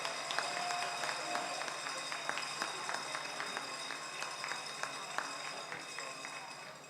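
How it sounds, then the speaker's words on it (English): Applause and cheering for cooking competitors at a shellfish festival, scattered claps from a modest crowd at some distance amid general outdoor noise. "Round of applause. Let's hear it for all the competitors."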